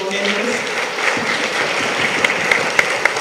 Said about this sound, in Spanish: Les pido que le demos un aplauso a estas extraordinarias